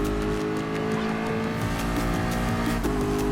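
Race car engine roaring steadily in the Gran Turismo Sport video game, a loud continuous drone with shifting revs and brief tire noise through cornering, heard alone without talk.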